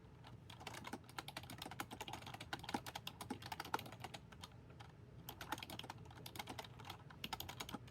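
Rapid, steady keystrokes clatter on the keyboard of a Boox Tab Mini C e-reader, a dense run of light clicks at close range with no voices.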